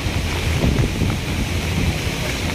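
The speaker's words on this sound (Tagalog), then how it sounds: "Makikita nyo po na malakas yung hangin" Strong monsoon wind blows steadily across Manila Bay, a loud, unbroken rush of air and surf-like noise with no voices.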